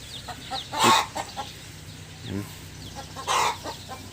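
Chickens cluck in a short burst of sharp calls and softer clucks near a cattle farm, with quiet background sounds between them.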